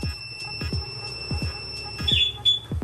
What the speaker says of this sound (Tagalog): Pangalawang attempt, doon na po tutunog yung alarm.